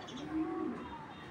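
A racing club pigeon from 2021, an original club-raced bird, gives a single soft, low coo that swells briefly and fades, close by and alone against quiet background.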